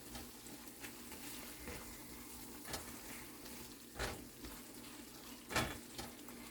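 Butter and heavy whipping cream simmer in a pan for a keto chicken Alfredo, giving a steady, quiet, hissing bubble with a few soft clinks and stirs rising above it.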